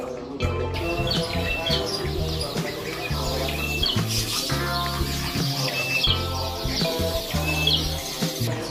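At a bird market in Sidoarjo, many caged birds chirp and trill in dense overlapping calls over a steady, rhythmic, low-pitched backing that runs throughout.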